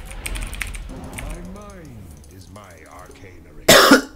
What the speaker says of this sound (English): Man, I got a bad cough.